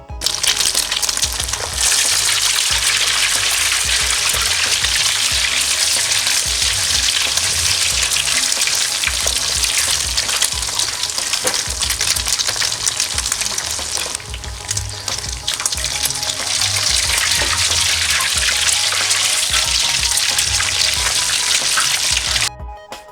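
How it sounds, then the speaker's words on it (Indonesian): Steady loud sizzling and crackling of egg-coated chicken sempol frying in hot oil, continuous and close, with no talking. "goreng sampel hingga kuning kecoklatan"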